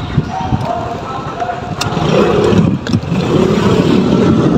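A Motorstar Easyride 150P motorcycle, fault with a strong engine brake, engine loud and close as it revs up then falls away after the throttle is let go, with voices talking over it.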